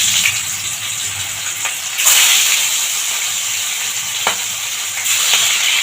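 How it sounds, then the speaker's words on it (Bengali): Fish rubbed with salt and turmeric frying in hot oil makes a loud, continuous hissing sizzle up close, with a few sharper bursts of crackle as it spatters. "এবার তেলটা গরম হয়ে গেছে, এখানে মাছটা ভেজে নেব।"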